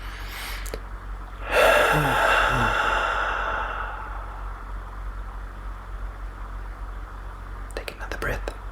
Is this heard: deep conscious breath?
yes